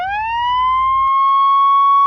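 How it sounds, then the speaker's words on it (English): A police siren sound effect wails alone, one rising tone that climbs and then holds steady and loud, briefly over a low rumble at the start. "I have to put that siren at the end of every offensive joke I make now."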